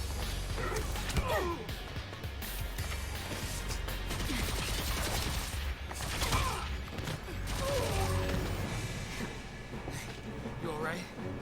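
Gunfire bursts and crashes from the video game Final Fantasy XIII, with rapid rattling volleys and impacts running throughout over a dense game soundtrack.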